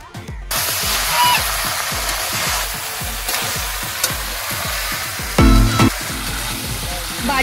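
Chicken pieces sizzle and fry steadily in a pan in a village kitchen, a continuous crackling hiss with stirring scrapes and a brief louder clatter partway through.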